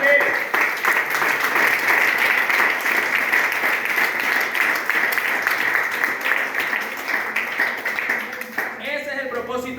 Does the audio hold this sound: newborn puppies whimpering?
no